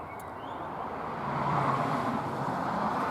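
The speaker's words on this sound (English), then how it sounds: "Sorry about the traffic noise." Steady road traffic hums in the background, a continuous low rumble of passing cars that grows slightly louder midway, with no voices over it.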